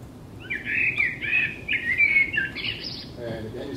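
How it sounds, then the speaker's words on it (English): A bird sings a short phrase of bright warbling notes that rise and fall, clear and fairly close, with faint low background noise and no talking. "another example is a bird singing"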